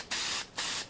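Short hissing bursts from a spray can nozzle, two strong sprays with a brief gap and a third starting at the end, loud and close with no voices.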